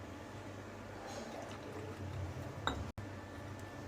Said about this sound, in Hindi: फिर इसमें हम पानी डालेंगे।